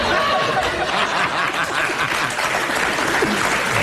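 Steady audience applause fills the room throughout at an even, loud level, mixed with a few scattered chuckles.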